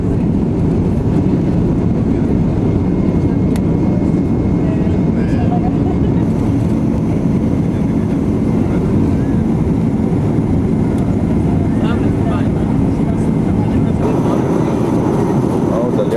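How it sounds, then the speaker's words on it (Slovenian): Inside the cabin of a Boeing airliner climbing just after takeoff over the Libyan Desert, a loud, unbroken low rumble of engines and airflow persists, with faint higher hums drifting in and out. "Smo še 200 na uro, že letimo."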